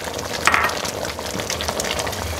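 Cherry chocolate preserves with amaretto, boiling and being stirred in a pot, giving a steady bubbling, sizzling simmer with a few faint scrapes, heard close and alone.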